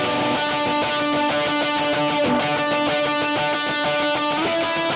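A worship-style electric guitar plays a melody with single-string muting, its clean, separated notes sounding over a sustained tonal background and changing at a steady pace.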